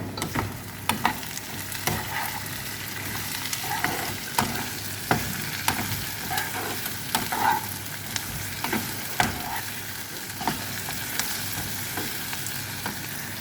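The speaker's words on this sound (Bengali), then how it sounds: "তো এটা হইতে থাকে আস্তে আস্তে ভাজা।" Egg frying in a pan with salt: a continuous close sizzle punctuated by repeated sharp clicks and scrapes of stirring over about thirteen seconds, with no talk.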